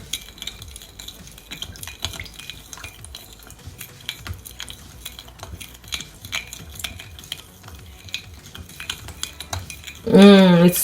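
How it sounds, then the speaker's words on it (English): A spoon stirs sesame seeds into teriyaki sauce in a pan, producing soft repeated scraping and clinking strokes at close range, with a louder clatter at the very end. "Then I'm just gonna take my spoon and just mix it all in"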